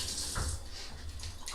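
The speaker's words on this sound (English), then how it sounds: "let me wash my hands off" Running tap water splashes over hands being rinsed in a home kitchen while baking cinnamon rolls, a brief close rushing wash of water with no talk.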